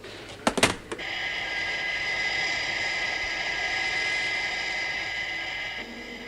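Steady, broad aircraft engine roar in flight holds evenly for several seconds after a few sharp clicks and knocks at the start, then drops away near the end.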